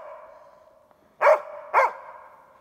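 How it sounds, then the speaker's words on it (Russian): Hunting dog barking at a large aspen in a forest, two loud sharp barks close together after a quieter stretch of distant yapping. "Блин, лает вот на эту осину."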